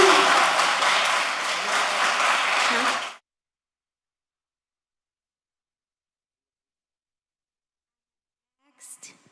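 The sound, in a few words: audience clapping in a commission meeting chamber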